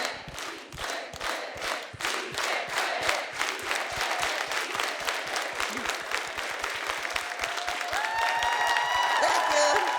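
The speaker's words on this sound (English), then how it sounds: "Let's all do a unified clap." A crowd at a student leadership conference claps in unison. Sharp, evenly spaced beats form a steady rhythm that carries on while voices and cheering rise alongside it.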